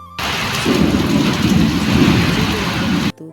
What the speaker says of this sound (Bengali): মানে আজকে সাংঘাতিক রকমের বৃষ্টি হয়েছে